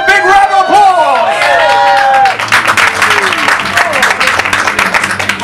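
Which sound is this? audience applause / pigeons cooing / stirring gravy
audience applause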